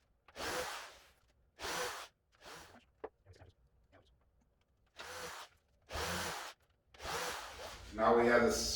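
A power drill countersinks screw holes in wood for a home-built craps table, firing several short, loud, whirring bursts separated by brief pauses, close up.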